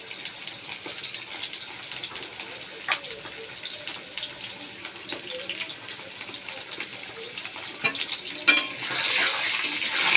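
Potatoes sizzle softly in a pan with spice masala of cumin, ginger, tomato and chilli for aloo dum, a faint steady frying hiss with light stirring clinks that grows louder near the end.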